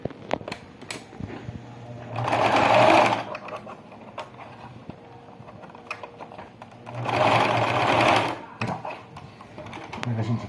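A domestic sewing machine stitching elastic onto a baby slipper in two bursts of fast mechanical whirring, close up, with quiet handling noises and someone speaking Portuguese between the runs.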